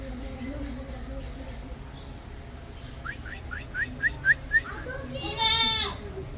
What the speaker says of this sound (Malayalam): അതെ ഒരു മുട്ടനുണ്ട്, പെടാമുട്ടൻ.